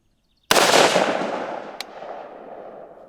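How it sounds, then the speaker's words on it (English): A single loud gunshot from a budget AR rifle cracks sharply nearby, then rings out in a long decaying echo across an outdoor range with a faint later click. "shoot these rounds downrange"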